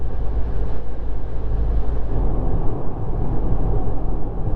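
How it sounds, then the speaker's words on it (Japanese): Inside a Chrysler Ypsilon Platinum cruising on an expressway in fifth gear, a steady low road rumble blends with soft wind rush, continuous and moderately loud with no talking. "ロードノイズは一般道同様、まあまあ遮音されています。"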